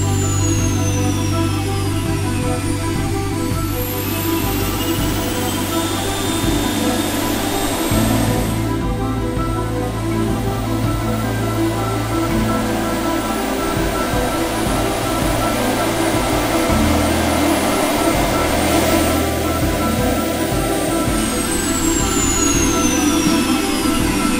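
Gas turbine engine of the Howmet TX race car spinning up loud and close, a steady jet-like whine and roar with tones sweeping up and down as the compressor changes speed, sustained throughout with no talk.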